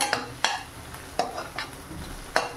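Vegetables sautéing in a pan for rava upma, a soft background sizzle broken by five sharp metallic spoon clinks against the pan as it is stirred.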